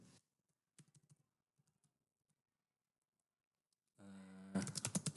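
Typing on a computer keyboard: a few scattered key clicks, a quiet pause, then a quick dense burst of louder, close keystrokes at the end.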